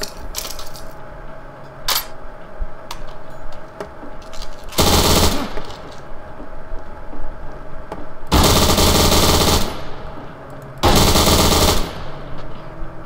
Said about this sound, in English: I can spew out bullets all day.